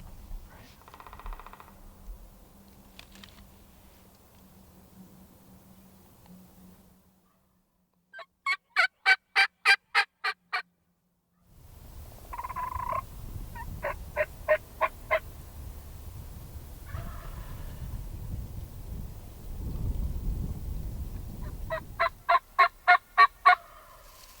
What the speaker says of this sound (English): So we found one that's willing to gobble.